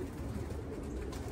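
Racing pigeons cooing softly in a loft, a faint, low, continuous murmur of coos under steady background noise.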